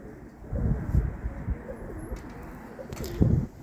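Pigeons coo softly in low, throaty bursts nearby against faint wind, with light fluttering and shuffling in between.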